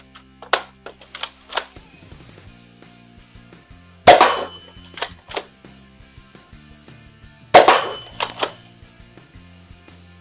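A Dart Zone Sentry toy blaster fires Rival foam balls: sharp mechanical clicks and clacks of priming, then two loud close pops a few seconds apart, alone without talk.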